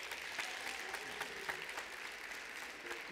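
Faint, steady applause from an audience at a graduate cooperatives event in South Africa, with sharp individual claps standing out now and then.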